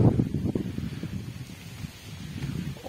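Gusty wind buffets the microphone with low rumbling blasts that ease slightly midway and then pick up again.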